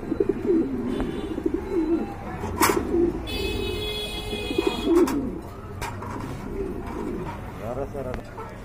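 A big-size pair of original Shoking pigeons coo in soft repeated calls, close by, under someone talking throughout.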